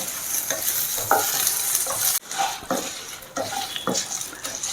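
Dried red chillies and curry leaves roasting on a low flame for spicy prawn powder, stirred with repeated scraping and clinking of a spoon against the pan over a gentle sizzle, close by and without speech.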